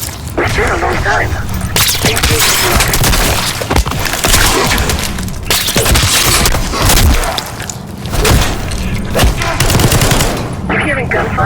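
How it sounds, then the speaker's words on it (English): Dense gunfire and explosions in the video game Call of Duty Black Ops 6: rapid automatic bursts and heavy booms that continue almost without a break, loud and close, with brief pauses. "You hearing gunfire?"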